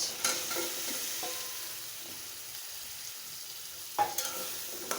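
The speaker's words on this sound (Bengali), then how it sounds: "এখন দিয়ে দেবো সেই সজনে ডাঁটা, আলু আর একটা পেঁয়াজ।" Drumsticks, potato and an onion sauté in hot oil in a pan after fish has been lifted out, giving a soft steady sizzle with occasional stirring scrapes and a louder burst of frying near the end.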